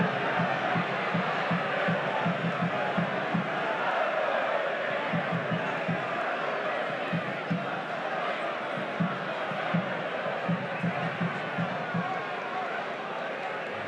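Football stadium crowd at a Serie A match between Spezia and Napoli, a small band of away fans cheering and chanting in a steady dense roar from a distance, with a commentator talking over it throughout.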